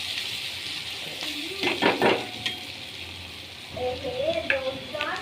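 Onion, tomato and chili fry in a pan for an okra dish, a low sizzle under clinks and scrapes of a spoon stirring against the pan, with a brief voice in the background.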